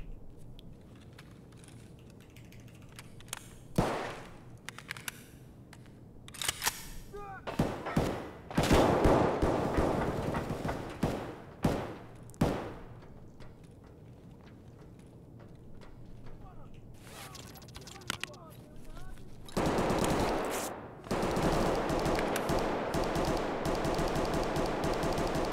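Bursts of gunfire ring out in an Escape from Tarkov shootout, with sharp single shots and rapid automatic volleys spread irregularly through the firefight, some loud and close, others quieter, over a steady low game background.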